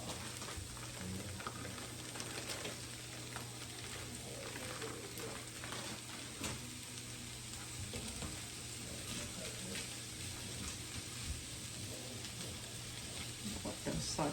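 Frozen vegetables sautéing in a pan for chicken fried rice, a continuous low sizzle with a little water hiss and light clinks from stirring throughout.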